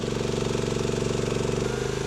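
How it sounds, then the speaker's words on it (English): The lawnmower engine of a small Tonka excavator cranks and chugs close by in a rapid, steady pulsing rhythm, then its pitch drops and the engine falters near the end. "simply a lawnmower engine"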